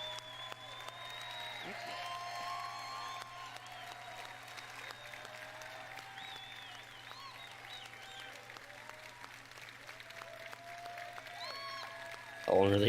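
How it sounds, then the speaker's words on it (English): Audience applauding at the Fallout 76 reveal, heard faintly as a steady wash of clapping through a stream, under music and a low hum, with a louder burst at the end. "How long are they gonna clap?"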